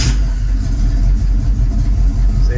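An Oldsmobile 403 V8 idles roughly with low oil pressure at idle, a loud, close, steady low rumble with a slightly uneven pulse and no speech on top.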